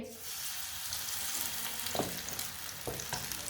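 Spoonfuls of potato and moong pakora batter drop into hot oil, giving a steady sizzling fry with a few brief bursts as each new spoonful goes in.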